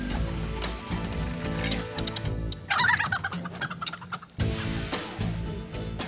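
Rescued chickens squawk and cluck loudly while being boxed into crates, a dense, continuous flurry of agitated calls close up with handling noises and no speech.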